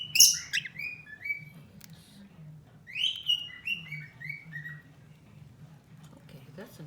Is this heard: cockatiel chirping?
yes